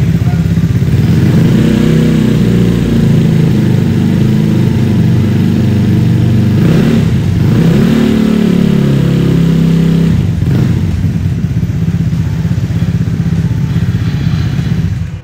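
A Vespa Sprint 150 I-GET scooter engine runs and revs nearby, giving a loud, steady mid-pitched engine drone that rises and falls with throttle changes, with some clatter.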